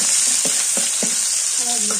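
Dry chilies, kalonji and panch phoron fry in hot oil with a loud, close sizzle, punctuated by several soft rhythmic stirring scrapes and a faint trace of voice near the end.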